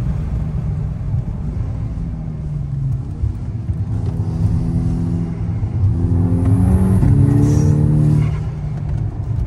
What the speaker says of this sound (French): Avec le bruit de l'admission et tout, c'est top.